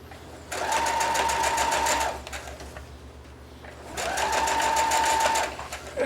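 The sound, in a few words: sewing machine stitching jeans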